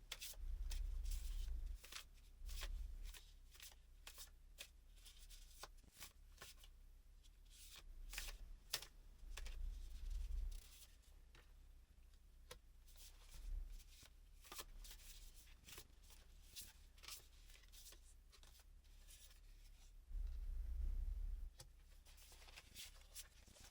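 Tarot cards drawn and shuffled from a deck, a series of close, crisp card snaps and slides in irregular bursts, quiet overall, with soft low thumps at intervals and no talk.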